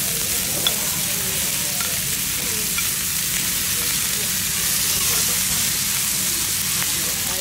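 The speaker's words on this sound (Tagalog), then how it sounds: "Lulutuin mo yung beef kasi hindi masyadong luto." Beef cooks on a hot tabletop pan at a restaurant, giving a steady, loud, hissing sizzle throughout with faint stirring sounds and background diners.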